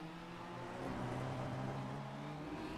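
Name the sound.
race car engine in a touring car racing video game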